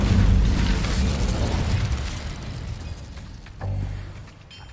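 An Incendio fire spell bursts in Hogwarts Legacy, a heavy rumbling blast that swells at the start and fades, followed by a second softer thump near the end.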